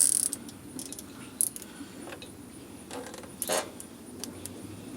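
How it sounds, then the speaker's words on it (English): A plastic zip tie is ratcheted tight onto a motorized bike while a CDI unit is fastened in place, giving short, close clicking bursts against quiet background hiss. "Let me go ahead and zip tie it now"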